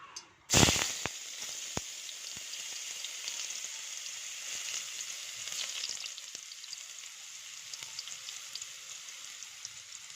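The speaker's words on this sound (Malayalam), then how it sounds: "ആ വെളിച്ചെണ്ണയിലേക്ക് നന്നായി അരിഞ്ഞു വെച്ച ഉള്ളി ഇടാം." Finely chopped onion dropped into hot coconut oil, giving a loud initial burst of sizzling that settles into a steady, close crackling fry with scattered pops.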